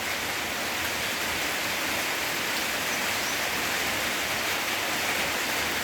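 Heavy rain pours steadily through the morning after falling all night, a dense, unbroken hiss that stays loud and even from start to finish, with no voices over it.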